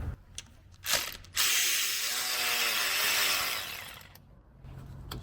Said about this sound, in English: So let's get this bolt out right here. We have a 12mm.